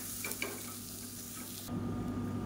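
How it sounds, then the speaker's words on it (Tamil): Samba wheat rava roasting with onion and garlic in a pan: a steady soft sizzle with light stirring scrapes, turning to a fuller, louder frying hiss partway through as the rava goes in. "இதை சேர்த்துட்டு வறுத்துக்கலாம்."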